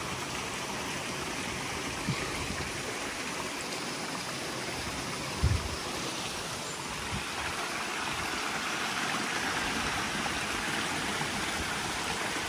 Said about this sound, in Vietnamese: Nước chảy ầm ầm luôn á nha.